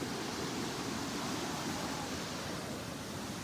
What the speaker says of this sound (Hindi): इस स्पीड में आ रहा है पानी।